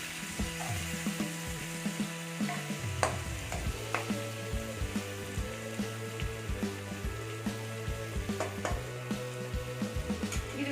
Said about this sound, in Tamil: ஒரு நிமிஷம் ஃப்ரை ஆகும் நல்லா ஃப்ரை ஆயிடுச்சு